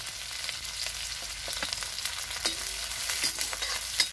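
Cumin, chopped onion and green chili fry in oil over a village clay stove, a steady close sizzle with occasional stirring clinks and pops, no voices.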